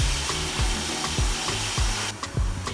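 Onions, tomatoes, garlic and ginger fry in a pan with a steady close sizzle, punctuated by a regular rhythm of scraping stirs against the pan.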